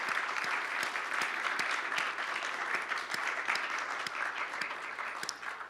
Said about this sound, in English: we're going to give a round of applause to this group